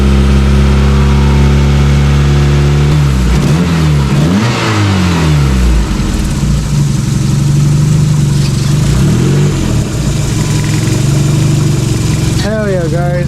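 A car engine, just running smoothly again after a wobbling pulley was repaired with steel JB Weld, warms up with a steady loud drone and a few revs rising and falling.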